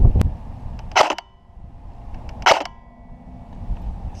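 A Krytac MK2 CRB airsoft rifle fires at a target, giving a sharp snap at the start and two bright clicking impacts about a second and a half apart, close and crisp.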